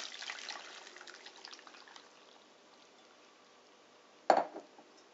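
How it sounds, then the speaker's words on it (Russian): Scalded nettles tipped from a bowl into a sieve or colander, a quick splash and gush of hot water that fades into faint trickling and dripping, followed by one sharp clatter of the vessel near the end. "И быстро откину на сито или дуршлаг."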